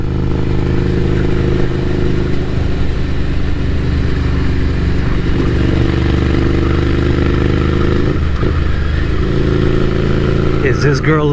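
Café racer motorcycle engine idling loudly and steadily nearby with a deep, even rumble throughout, slight revving near the end, while a person talks over it.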